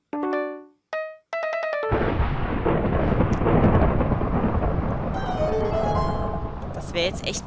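A Minecraft thunderstorm with rain: a few sharp tonal notes open, then a long rolling rumble of thunder over heavy hissing rain, with faint higher notes near the end.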